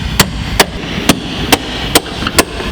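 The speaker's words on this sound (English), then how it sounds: "Hammer." About six sharp hammer blows land at a steady pace on metal parts while a car is being stripped down, each one a loud crack that rises above a noisy background.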